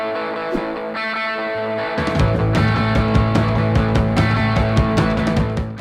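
Distorted punk electric guitar chords ring out with a spacious, roomy tone, starting with a few picked notes before settling into a driving strummed rhythm.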